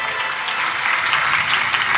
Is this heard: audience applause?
yes